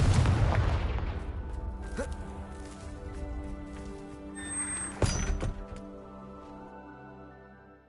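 A Confringo blasting spell in Hogwarts Legacy: a booming explosion that decays slowly, followed by a sharp crack and smaller debris impacts around five seconds in, under a faint musical drone.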